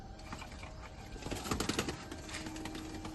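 Pigeons in a loft giving soft, low coos near the middle, faint against a quiet room with light tapping and rustling sounds.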